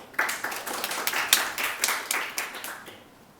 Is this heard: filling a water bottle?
no